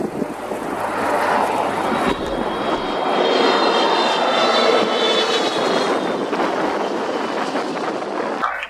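A large airliner close up at Toronto Pearson airport, its engines roaring steadily and loudly with a whining high tone and some wind buffeting, then cutting off abruptly at the end.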